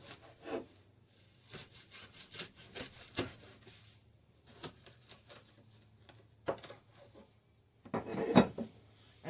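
Knife sawing through tough, thick stinging nettle stems, a series of close, scratchy rasping strokes in uneven bursts, with a louder, harsher cut near the end; no talking.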